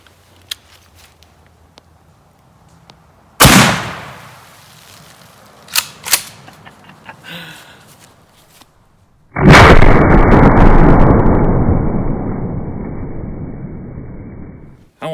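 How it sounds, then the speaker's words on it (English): A Winchester 1 ounce Foster slug fired from a 12 gauge shotgun: one sharp, loud blast that rings down, then scattered small clicks and a later sustained loud rushing burst. No one speaks. "I'm going to try him with a 1 ounce slug, 12 gauge"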